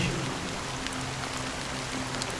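Rain in the video game Honkai Star Rail makes a constant, gentle patter and hiss, with a faint low hum beneath the even downpour, quiet and unbroken.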